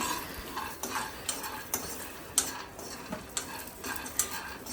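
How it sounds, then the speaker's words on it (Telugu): Raw peanuts dry-roasting in a pan over a low flame for peanut chutney, stirred with repeated close scraping and rattling strokes about every half second over a faint steady background, with no talking. "ఒక ప్యాన్లోకి వేరుశనగలు వేసుకొని లో ఫ్లేమ్లో ఉంచుకొని కలుపుకుంటూ ఫ్రై చేసుకోవాలి"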